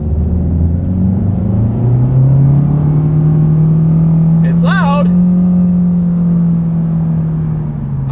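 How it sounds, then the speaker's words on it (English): A 2025 Honda Civic pulls hard away from a standstill, its engine note rising steadily as it revs up through the gears, loud and close from inside the cabin, with a brief chirp partway through. "let's see how quickly we can get our 2025 Civic here up to speed"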